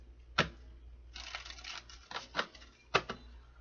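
Tarot cards being shuffled, with a sharp snap near the start, a stretch of papery riffling, then a few more distinct slaps and flutters, all close and alone.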